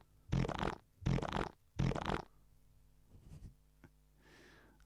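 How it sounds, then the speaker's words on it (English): A sampled fart noise is triggered three times in even succession, each a loud, close, buzzing burst, then a few fainter clicks and a short rustle follow. "it's purely just the fart noise now"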